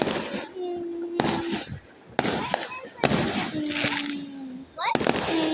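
Fireworks burst in a series of sharp cracks and booms, several close and loud, with whistling tones and crackle between them while people talk over the bangs.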